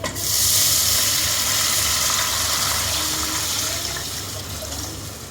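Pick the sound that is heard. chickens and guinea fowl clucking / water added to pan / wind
water added to pan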